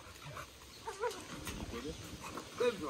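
A dog makes brief, low whimpering and yelping sounds indoors at a family home, mixed in with nearby people talking.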